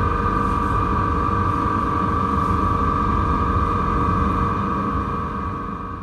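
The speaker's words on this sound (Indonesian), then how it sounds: "Tadi suara kipas exhaust di dekat kursi saya berisik banget, bunyinya kayak gitu ya." A noisy exhaust fan near a seat in an Argo Lawu train cabin gives a steady, loud droning hum with a constant tone over low rumble, unbroken throughout and easing slightly at the end.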